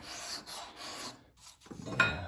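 A hand file rasps back and forth across wood grain in short, scratchy strokes with brief pauses between them. The strokes are close and moderately loud and end in a brighter scrape.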